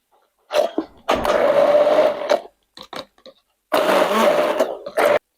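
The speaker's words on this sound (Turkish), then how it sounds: "Şimdi bunu güzelce geçirdim blenderdan" An electric blender purees aloe vera gel, whirring in two long bursts with a few short pulses in between, loud and close against silence.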